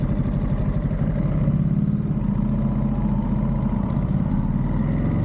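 A motorcycle engine rumbles steadily up close, a loud, even low-pitched throb with no voices.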